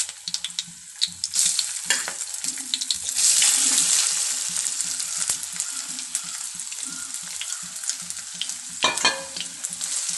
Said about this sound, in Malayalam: എണ്ണ ഒഴിച്ചു കൊടുത്ത് നമുക്ക് ഈ സോയാബീൻ ഒന്ന് വഴറ്റിയെടുക്കണം, ഫ്രൈ ചെയ്തെടുക്കണം.